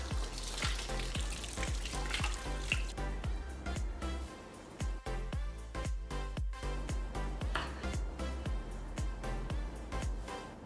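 Lettuce leaves being washed under running water: steady close splashing and trickling with many rapid crinkly rustles and squishes as the leaves are handled, continuous throughout.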